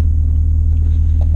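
A truck engine loaded with cargo idles in a low, steady rumble, close and loud, heard throughout with no talking.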